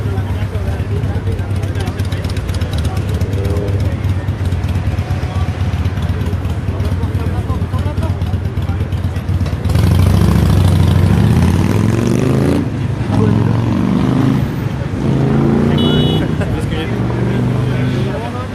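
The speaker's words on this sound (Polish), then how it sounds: "To, co słyszycie w tle, to jest gwar ulicy w Mediolanie." Busy street in a Milan neighbourhood, with continuous traffic rumble and passing cars and motorcycles steady in the background while someone talks over it throughout.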